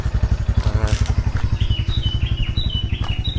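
A motorcycle engine runs close by, a loud rapid pulsing putter with clattering and faint high bird-like chirps above.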